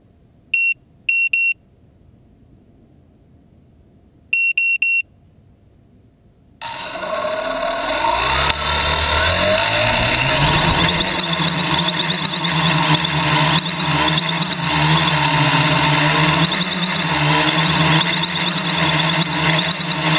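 A homemade quadcopter in a park, its motors freshly rewired to the controller: a few short electronic beeps, then a loud, steady motor whine that rises in pitch and holds for over ten seconds.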